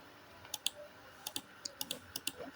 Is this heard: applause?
no